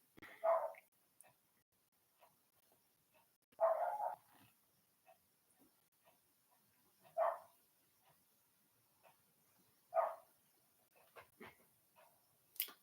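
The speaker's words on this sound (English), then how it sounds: "You can hear the dog very clearly." A dog barks out in a field, four single barks spaced a few seconds apart, carrying from a distance over a quiet background with faint rustles between them.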